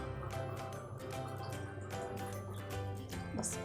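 Water being poured into a pan of stuffed bitter gourds (karela) cooking on a low flame, a steady liquid trickle with light dripping and sizzling close by, no talking.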